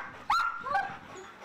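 An American Bully named Ares gives a single close, sharp bark followed by a shorter second yelp during attack training, loud against a quiet background.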